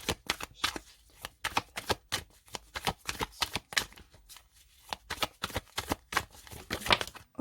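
Osho Zen Tarot cards being shuffled by hand: a steady run of crisp, papery riffles and slaps, close and fairly soft, repeating in quick bursts with short pauses and no talking.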